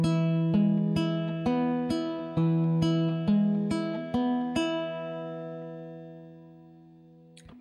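Guitar plays the opening two measures of Malaguena: nine clear, evenly spaced plucked notes moving between a low and slightly higher pitch, then a long ringing decay that fades toward silence, close and unaccompanied.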